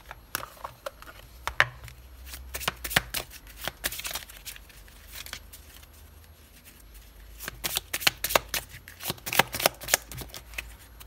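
A deck of oracle cards gets shuffled by hand in several close, crisp bursts of riffling and flapping, with a quieter pause in the middle and no talking.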